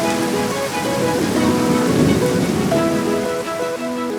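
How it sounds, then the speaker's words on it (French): Rain shower in a French children's cartoon, a steady broadband hiss of rainfall running under soft music tones throughout, fairly loud and even with no talk. "Vous voyez, ce n'était qu'une petite averse."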